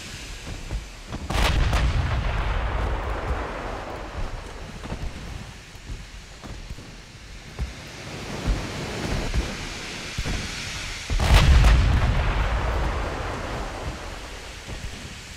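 Heavy battleship guns boom in Ultimate Admiral Dreadnoughts, a WW2 naval battle between the Nelson and Littorio, with two loud low blasts several seconds apart, each rolling off into a long rumble over steady background noise.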